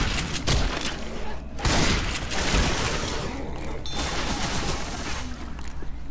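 Continuous heavy gunfire in the Left 4 Dead No Mercy realism campaign, dense overlapping shots and bursts filling the whole stretch at close range, with voices faintly mixed in.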